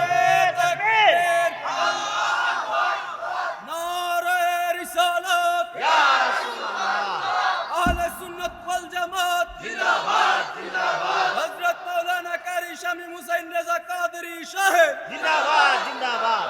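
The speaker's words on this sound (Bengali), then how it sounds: "আর জবানটা খুলে জোরে একটা তাকবীর হবে" At a religious sermon gathering, a large crowd shouts a loud, sustained takbir in unison, voices rising in repeated swelling waves that nearly fill the whole stretch.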